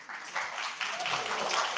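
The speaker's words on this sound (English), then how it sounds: "Let's give a round of applause for Stack Overflow." An audience at a hackathon finalist showcase gives a short round of applause, with brief, even clapping in a hall.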